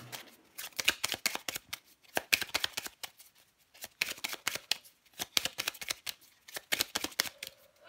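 Tarot cards shuffled by hand in repeated bursts of rapid papery riffling and slapping, close and clear, separated by short pauses, with no voices.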